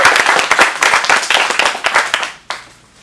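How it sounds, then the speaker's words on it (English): A small audience at an adult improv showcase claps loudly and close, a burst of uneven hand claps that thins out and fades, with one last clap after a brief pause. "Give them a round of applause."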